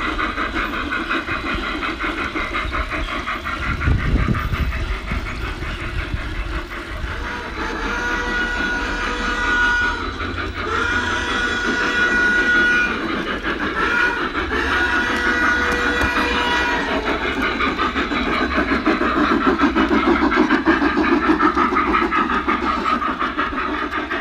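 F-scale narrow gauge garden railroad model train running outdoors in Northern California, a steady rolling rumble with light clicking over rail joints that swells and fades slightly over about twenty-four seconds, with no talking.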